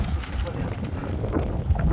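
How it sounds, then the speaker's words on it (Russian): Strong wind buffets the microphone outdoors at minus 15 degrees in January, with loud, gusty low rumbling throughout and a person talking over it. "ветер очень сильный."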